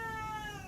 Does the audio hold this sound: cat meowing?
yes